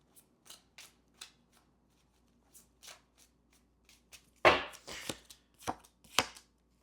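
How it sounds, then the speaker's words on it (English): Tarot cards shuffled by hand at a reading, a few soft riffling bursts and taps spaced through the stretch, the loudest run near the middle, heard close with no talking. "The cards have been shuffled right in front of you."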